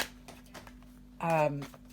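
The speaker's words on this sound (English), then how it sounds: "Just having a little shuffle of the Faulkner deck" A Faulkner tarot deck is shuffled by hand with a run of soft, quick papery card clicks, followed by a brief voice near the end.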